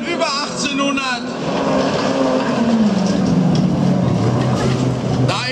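A special touring class car over 1800 cc at an autocross in Uelzen drives hard in a final, its engine droning and shifting pitch as it works across the course. Crowd noise sits underneath.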